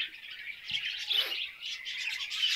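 Budgerigars in a breeding cage chirp and tweet in quick, high, overlapping calls, close and fairly soft, with no voices.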